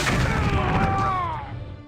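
A rocket fired by a rocket trooper explodes in the video game Dark Forces 2, a single heavy boom with a roaring burst that decays over about a second and a half, close and loud.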